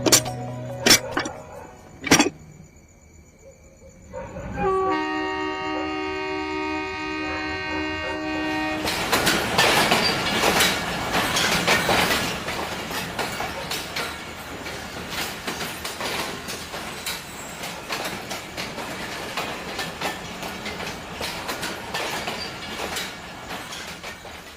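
A train runs on a railway, sounding a long horn before rolling up loud and close with steady rumbling and clickety-clack wheels that carry on without any talk.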